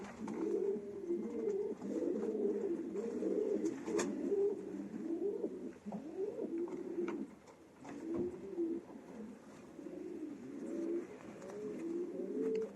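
Breeding pigeons cooing steadily in a loft, repeated low, rolling coos overlapping from several birds close by, with a few faint clicks and flutters and no talk.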